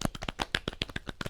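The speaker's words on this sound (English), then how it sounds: "clap for her." Scattered hand claps with a fairly even rhythm, faint and close, for make-up artist JoJo Hicks, sounding like a few people clapping.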